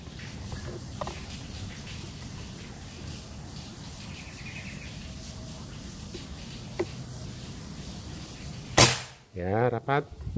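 After a long, quiet outdoor pause with faint ambient hiss, a Black Bullpup Yumaja 60 cm air rifle with a Monel barrel and 4000 psi charge lets off one sharp, close crack, followed by a brief scatter of bird chirps and rustling.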